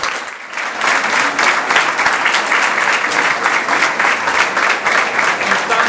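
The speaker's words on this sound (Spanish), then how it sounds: "Así que un fuerte aplauso para Adriana." Sustained applause fills a school's golden anniversary celebration as a crowd honors Adriana, a retiring teacher, with steady dense clapping throughout and no voices standing out.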